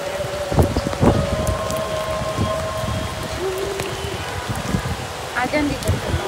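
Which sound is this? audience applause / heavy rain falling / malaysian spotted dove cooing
heavy rain falling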